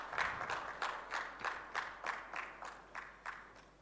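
An audience at a microfinance technology summit at Kigali Convention Centre claps in a steady, even rhythm of about a dozen beats. The claps sound faint and distant in a large hall, with no talking.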